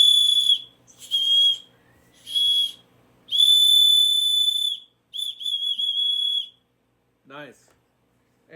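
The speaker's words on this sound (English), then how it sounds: "Yep, got another whistle." Two-barrel plastic whistle from a Temu survival kit blown in four or five shrill, sustained blasts with short gaps, loud and close, followed by a brief faint rustle.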